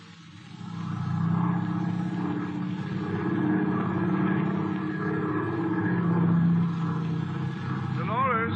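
An airplane takes off in a radio drama sound effect, a steady droning engine roar that swells and holds with a faint voice near the end.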